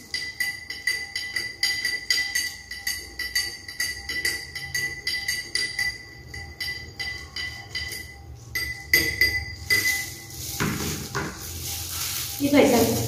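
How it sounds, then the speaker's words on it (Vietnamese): A spoon stirs sugar into a glass of freshly squeezed orange juice, ringing out in a quick, steady series of bright clinks against the glass, followed by a few scattered clinks and light handling noises. "cô dùng thìa, cô hòa tan thật đều cốc nước cam này"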